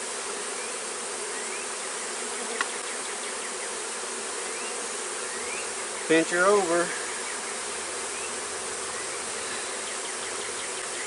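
Honey bees swarm around a small mating box while a queen is installed, giving a continuous, even drone. Someone speaks briefly over the buzzing.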